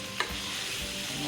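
Steaks frying in a pan, a short steady sizzle with one small tap of a utensil at the start, heard alone without talk.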